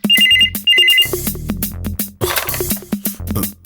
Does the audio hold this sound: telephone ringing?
yes